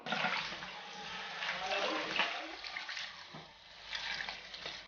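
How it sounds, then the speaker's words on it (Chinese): Loquat flowers from Chaozhou being washed by hand in water: close, continuous swishing and splashing that rises and falls in uneven bursts. "来把它洗干净，这是我们潮州文祠压贝的枇杷花"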